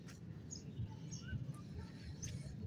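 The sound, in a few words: birds calling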